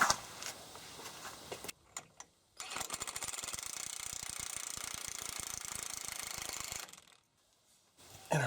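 A ratchet drives down the hub nut on a new wheel bearing on a 2000 Chevy truck, a long, steady run of rapid clicking up close that stops abruptly.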